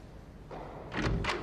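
Door opening and shutting in The 39 Steps PC video game, a soft muffled thud followed by two heavier knocks near the end, close and moderately loud.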